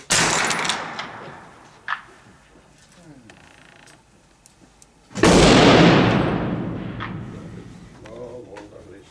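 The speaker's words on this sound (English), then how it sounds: "Sounds like a cannon." A single loud gunshot booms at an outdoor shooting range with 25, 100 and 300 metre lanes, followed by a long rolling echo. Quieter pops and clicks come before it, and a voice speaks faintly.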